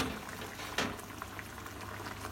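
Smoked fish mangut with sliced tomato and whole bird's eye chilies simmering in a pot as its liquid reduces, a steady soft bubbling hiss, low and close, with one brief louder pop and no talking.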